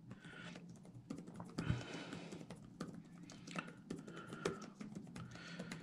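Rapid, irregular clatter of keys on a computer keyboard during typing practice drills, steady close-up keystrokes running throughout with no talking.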